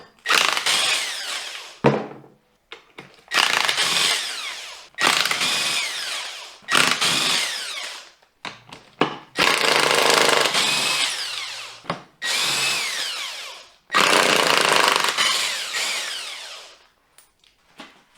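An impact power tool rattles off 15 mm case bolts on a Dodge NP241 DLD transfer case, loud close bursts of a few seconds each separated by short pauses, about seven runs in all.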